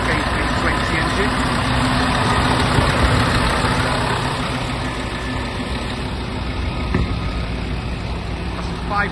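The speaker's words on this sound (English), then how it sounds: "That's a 5-cylinder Scania K320." Five-cylinder Scania K320 engine in a 2012 Irizar i4 coach idling, a steady close diesel rumble that holds an even level for the whole stretch with no talk over it.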